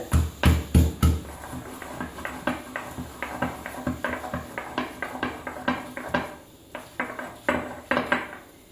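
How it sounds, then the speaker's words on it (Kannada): Garlic is pounded together with green chili paste in a run of close, loud, rhythmic thuds, about two strikes a second, with slightly uneven spacing and no voices. "ಬೆಳ್ಳುಳ್ಳಿ ಹಾಕೊಂಡು ಚಚ್ಕೊಳ್ಳೋಣ."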